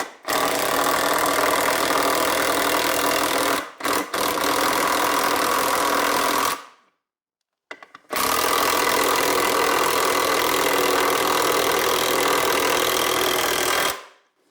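Cordless impact wrench driving a screw home, a loud steady mechanical whir running for about six seconds, a short pause, then another long continuous run of similar length, close to the microphone with no talking.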